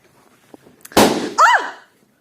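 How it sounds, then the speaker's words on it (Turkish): A single sharp pop of a balloon bursts out, followed by a short squeaky rubbery squeal, close and loud against a quiet room. "Balonlar durduğu yerde patladı şaka gibi."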